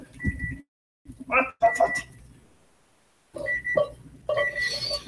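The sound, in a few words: kitchen timer beeping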